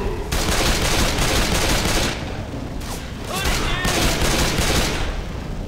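Rapid bursts of gunfire from Left 4 Dead 2 on PC, loud and dense, with continuous shooting filling the clip and brief lulls between volleys.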